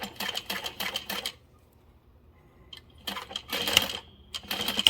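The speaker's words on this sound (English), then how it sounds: "I'm just going to backstitch neatly" Sewing machine backstitching a backpack seam: rapid mechanical clattering in short bursts, a pause of about two seconds, then more quick stitching runs with a light click, fairly close.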